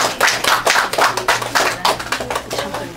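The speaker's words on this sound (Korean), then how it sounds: "다 같이 박수를 환영해 주시고요." Audience clapping at a Korean award ceremony for a legal association's anniversary, a dense burst of many hands applauding steadily throughout, with faint low music underneath.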